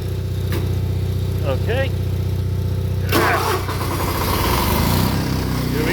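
Several Onan generator engines, including 2-cylinder diesels, start up one after another: a steady low idle runs throughout, then a louder engine cranks and catches about halfway and settles into a busy running rumble, with a brief spoken word early on.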